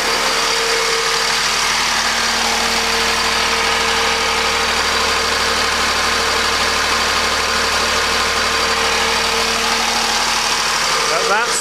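An electric motor running as a generator spins up to speed, giving a loud, steady mechanical drone with a sustained tonal whine that fills the whole stretch without a break, and a voice is briefly present.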